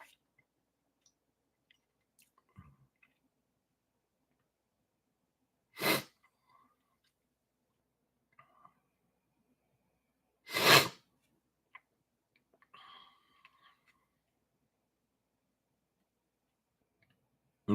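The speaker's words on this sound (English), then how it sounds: "I'm dealing with a little bit of a sneeze attack here" Two sharp, loud sneezes from a sneeze attack, a few seconds apart, break an otherwise near-silent stretch, with faint small clicks and breaths in between.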